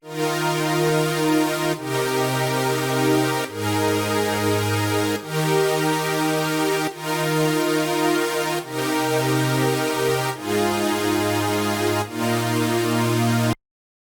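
Big bright sawtooth synth chords play a steady progression, each chord held a couple of seconds, loud and full with no talking.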